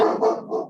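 A single dog bark from outdoors, close and loud, with a short follow-up yelp.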